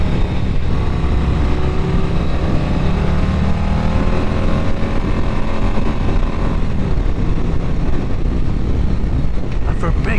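A 2024 Harley-Davidson bagger motorcycle, a Street Glide or Road Glide, accelerates hard on the road, its engine rising in pitch over rushing wind, with a voice briefly heard.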